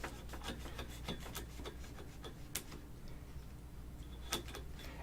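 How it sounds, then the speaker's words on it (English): An X-Acto knife scraping and cutting through ruin wall material for miniature wargaming terrain, a steady faint rasping with repeated light ticks and a couple of sharper clicks, close and quiet. "I do normally take 2 passes with the X-Acto knife, hitting all the spots that I might have missed with the last sawing action"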